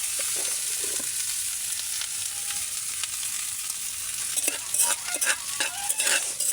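Rice stir-frying in a pan with dried fish, a steady close sizzle with scraping and stirring clatter picking up toward the end, no voices.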